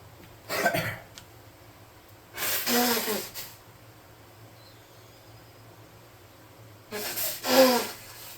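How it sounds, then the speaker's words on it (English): Three loud, breathy nose blows, close by, separated by quiet pauses with a low background hum. "I can use this opportunity to blow my nose."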